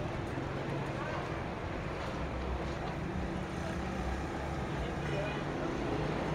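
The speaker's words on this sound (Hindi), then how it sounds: "और यहाँ देखो ठंडी हवा चल रही है।" Cold winter wind blows steadily outdoors, a broad continuous rushing roar with buffeting against the microphone that stays loud and even throughout.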